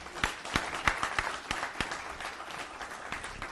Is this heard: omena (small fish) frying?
no